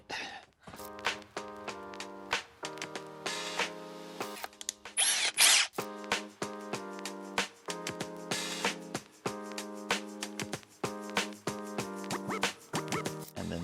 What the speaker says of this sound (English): I'm going to get set up, drill these holes